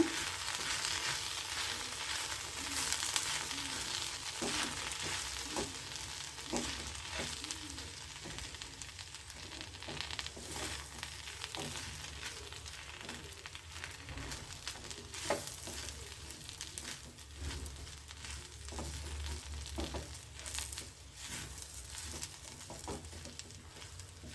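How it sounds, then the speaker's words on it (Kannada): Okra fry sizzling steadily in a pan as ground masala is stirred through it, with soft scraping and patter running continuously and close by, no talk. "ಈಗ ಇದಕ್ಕೆ ನಾನು ಗ್ರೈಂಡ್ ಮಾಡಿಟ್ಟಿರೋಂತಹ ಮಸಾಲವನ್ನು ಹಾಕ್ತಾಯಿದ್ದೀನಿ ಈಗ ಚೆನ್ನಾಗಿ ಎಲ್ಲವನ್ನು ಒಮ್ಮೆ ಮಿಕ್ಸ್ ಮಾಡ್ಕೊಳ್ಳೋಣ"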